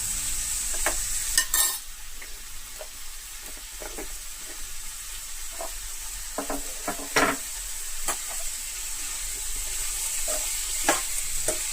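Curry ingredients stir-frying in a pan, a steady hiss of sizzle with scattered scraping clicks of a spatula against the metal, close and continuous with no talking.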